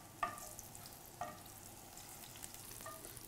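Tofu fries in hot oil in a pan, a soft continuous sizzle with a few sharper crackles and pops spaced across the clip, fairly quiet and with no talking.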